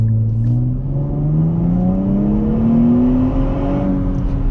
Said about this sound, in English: The exhaust note, you could definitely hear it. Sounds very vacuumy